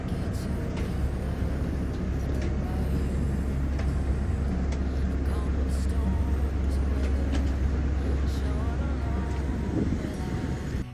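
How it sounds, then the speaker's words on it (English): Airport shuttle bus in Japan rolling with a steady low engine drone and road rumble, continuous and close, with faint background chatter. "there are these shuttle buses. They're called airport limousines."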